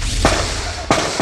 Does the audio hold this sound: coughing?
no